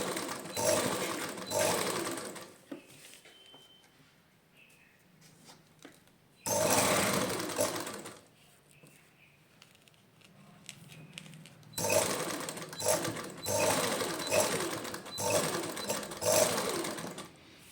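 A sewing machine stitches lace onto cloth, running in three loud bursts of rapid mechanical chatter separated by quieter pauses while the fabric is repositioned.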